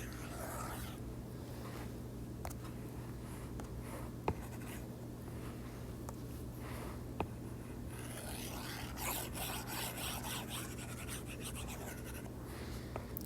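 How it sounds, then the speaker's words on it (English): A whiteboard drawing is wiped away during a chemistry lecture, with quiet, continuous rubbing and scraping strokes over a low background hum and a few faint clicks. "So I'm going to erase some of this stuff here."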